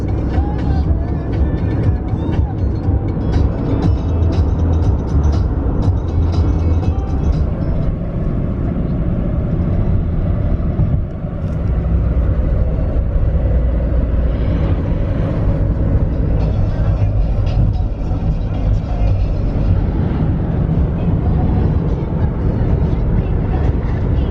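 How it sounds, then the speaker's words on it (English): A car cruising along a road in Poland, heard from inside the cabin as a steady, loud low rumble of engine and tyre noise with wind, continuous throughout. "So we're just on the road, just going to eat up some miles"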